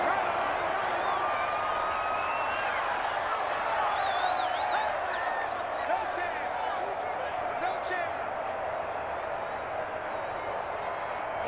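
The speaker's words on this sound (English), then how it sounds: "The crowd getting into it as we come up on a big 3rd down" A stadium crowd at an NFL game between the Los Angeles Rams and Houston Texans roars steadily ahead of a big third down, a broad sustained wash of cheering with whistles rising above it.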